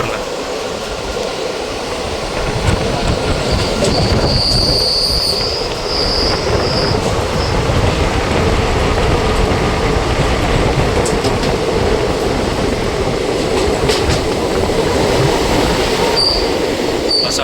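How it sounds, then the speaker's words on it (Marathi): A suburban train running toward Thane station on a trip to Shirdi gives a loud, steady rumble of wheels on rails close by, with brief high-pitched wheel squeals and faint clacking throughout. "आता ठाणे स्टेशनला थांबेल ट्रेन."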